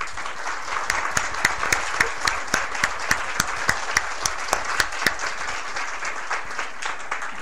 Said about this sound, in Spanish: quisiera un aplauso para ellas